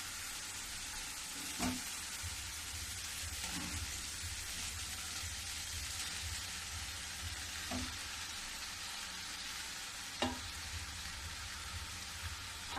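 Fried bottle gourd is stirred into a spiced masala with a wooden spatula, a steady soft sizzle running throughout with a few distinct scraping knocks against the pan at intervals.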